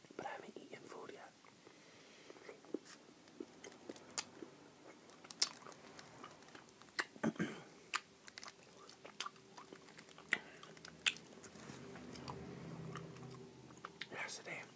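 Milk chocolate is bitten and chewed close to the microphone in soft, moist crunches and smacks, irregular and intimate, with quiet whispering in between.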